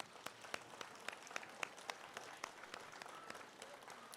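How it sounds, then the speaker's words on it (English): Audience applause at a 2024 Robinson Education Foundation coronation ceremony, a steady round of clapping from a crowd, heard somewhat distant and moderately faint throughout. "One more big round of applause."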